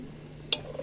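Food is stirred in a pan during Korean home cooking: one sharp scrape of utensil on pan, then a few fainter clicks, close and otherwise quiet.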